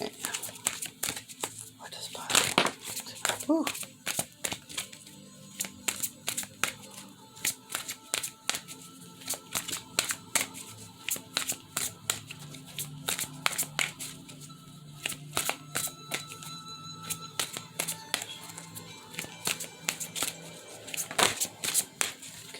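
Repeated crisp riffle-shuffling of playing cards, bursts of rapid flapping and clicks, with soft talking in between.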